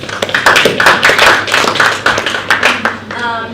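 Applause breaks out in a conference hall at a parliamentary commemoration event, brisk clapping from a moderate crowd with a voice and some chatter mixed in, fading near the close.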